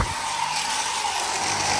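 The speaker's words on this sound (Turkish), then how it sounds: "pek de etkili bir saç kurutma makinesi yok." Hand dryer-style hair dryer in a university restroom blowing steadily with a broad, even airflow hiss and a faint tonal whine, loud and constant with no talking.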